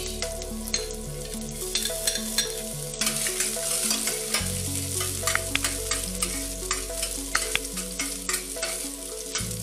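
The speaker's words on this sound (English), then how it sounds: "Add your chopped garlic." Chopped garlic sizzles in a pan while being stirred for Nigerian-style Indomie noodles, a steady close frying crackle broken by repeated scraping strokes of the utensil, with no talking.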